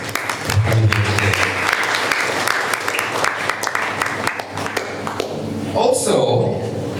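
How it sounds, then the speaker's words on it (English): An audience at an art exhibition event applauds, a steady close patter of clapping with voices mingling underneath and a few knocks and shuffles toward the end. "all of you deserve a round of applause for coming here today"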